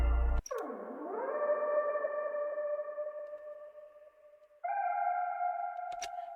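Melodic one-shot samples for an FL Studio R&B loop: a pitch-bending synth tone dips and rises, then holds steady, and a second sustained tone follows. It sounds hollow and sonar-like, clear and alone, with brief clicks at the start and end.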